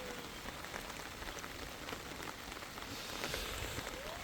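Heavy rain falls in a steady, even hiss with scattered drops pattering on surfaces, fairly faint and continuous with no voices.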